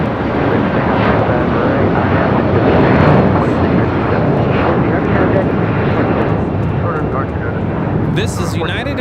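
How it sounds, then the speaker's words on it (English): A United Airlines Boeing 757-300 takes off from Los Angeles with a loud, close, continuous jet roar that runs throughout. A brief voice cuts in near the end. "This is United Airlines 1400 taking off to Chicago O'Hare on a 757-300."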